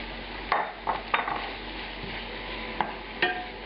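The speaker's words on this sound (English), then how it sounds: "I'm going to add this paprika in." A spoon stirs paprika into cola-glazed red onions in a pan, giving a handful of sharp scrapes and taps over a soft, steady sizzle.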